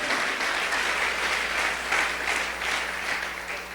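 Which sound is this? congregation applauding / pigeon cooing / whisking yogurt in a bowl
congregation applauding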